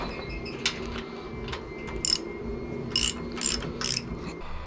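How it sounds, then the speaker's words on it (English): Wrench ratcheting as bolts are tightened on a Brunswick bowling pinsetter, several short bursts of sharp metallic clicking spaced out against a steady machine hum, close and clear with no talking. "we're gonna get our wrench here. And we're gonna tighten up this one."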